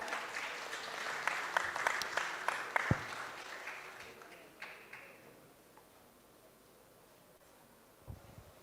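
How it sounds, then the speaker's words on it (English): Audience applause welcoming a speaker at an industry interaction session on campus: scattered claps build briefly, then thin out and fade to quiet room noise, with a single isolated thump near the end. "Let us please welcome him with a huge round of applause."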